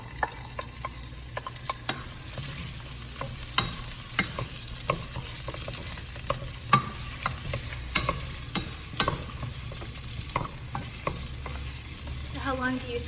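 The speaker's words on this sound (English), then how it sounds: "How long do you saute the onion, garlic, and ginger?" Onions, garlic and ginger sautéing in ghee with black pepper in a pressure cooker used as a sauté pan for bone broth, a soft continuous sizzle broken by frequent spoon scrapes and stirring clicks, close and quiet.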